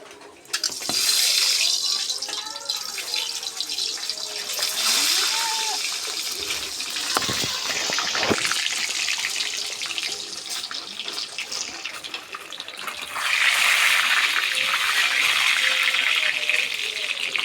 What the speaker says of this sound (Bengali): বৃষ্টি হচ্ছে, ছাতি ধরে ভিডিও করা লাগে।